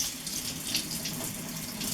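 A kitchen tap runs in a steady, even stream while homemade butter is rinsed under it, with the water hissing continuously and nothing else heard.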